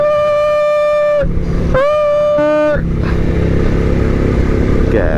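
A Suzuki V-Strom motorcycle engine on backroads, loud and close, its pitch climbing and dropping through several gear changes before settling into a steady rough drone.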